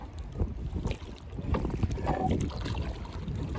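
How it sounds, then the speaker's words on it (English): A rowboat rows on quiet water in wind, with soft oar splashes and knocks under a blustery rumble of wind buffeting the microphone, fairly faint and close. "we can just row up and down here"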